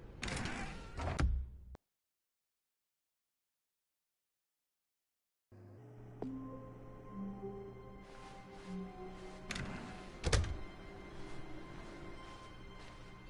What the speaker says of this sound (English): Stanley walked through the red door.